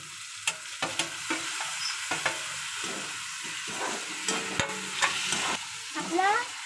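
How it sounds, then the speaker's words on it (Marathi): Onion and tomato being sautéed for egg bhurji, a soft pan sizzle under repeated clicks and scrapes of a spoon stirring, close and fairly quiet, no voices. "आपला टोमॅटो छान असा परतून आणि मऊ होऊन घेऊया"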